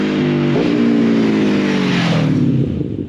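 An Aprilia Tuono V4 1100 motorcycle with an aftermarket exhaust revs hard up close, its V4 engine climbing in a loud, raspy wail before the throttle eases off near the end.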